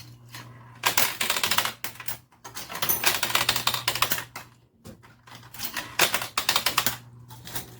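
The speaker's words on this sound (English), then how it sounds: "the quarters are making short work of the dollar coins, which is cool to listen to" Quarters and dollar coins clinking in a coin game, with rapid metallic clatter arriving in four dense bursts separated by brief quiet gaps.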